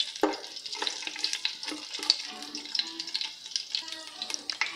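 Whole spices, cinnamon, cardamom and cloves, heating in a pan for Indian-style chicken maqlooba, giving a soft continuous sizzle with light stirring and scraping clicks, close and fairly quiet, with no talking.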